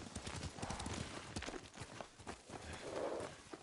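Horses' hooves clop steadily at a walk on the ground in the Ghost of Tsushima video game, a faint, even rhythm of footfalls with soft ambient noise around them.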